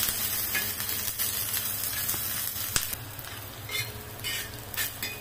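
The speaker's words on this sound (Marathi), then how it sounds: "कांदा पण असा परतू द्यायचा" Onion being sautéed in a pan for a soybean rassa curry, a close steady sizzle with scraping stirs and small clinks from a utensil against the pan, no talking.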